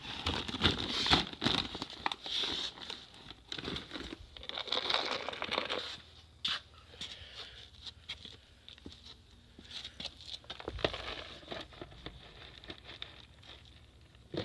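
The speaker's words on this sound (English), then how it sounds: "I'm gonna take just a little bit of feed out of this bag" Seminole horse feed with dry beet pulp is scooped out of a bag nearby, giving crinkling rustles of the bag and a patter of dry pellets and bits that come in uneven bursts and then fade to quieter shuffling.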